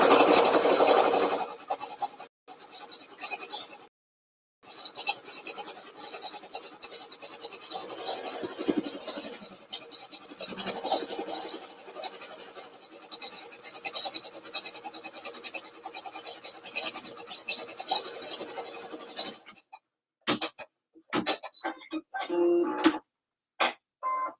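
Needle and thread pulling through fabric during embroidery, close and soft, with repeated scratchy rasps and ticks at an uneven hand pace, falling quiet briefly and ending in sharper separate pulls.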